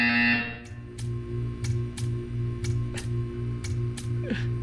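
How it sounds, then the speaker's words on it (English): Buzzer in Portal, sounding as a steady, evenly pulsed electronic drone repeating about once per second for several seconds after a brief tone, moderately loud and alone. "You will hear a buzzer."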